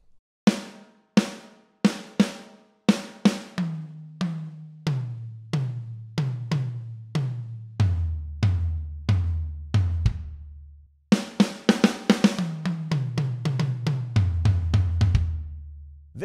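A drum fill from a song is played solo on the kit, with sparse, spaced hits giving way to quick offbeat sixteenth-note strokes that move down through the toms to low drums, close and clear.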